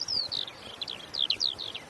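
A skylark sings over a farmland hay meadow in a rapid run of high, warbling chirps and trills, fairly close and clear above a low, quiet background rumble.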